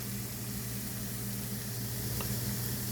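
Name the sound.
hashbrowns frying in corn oil in a pan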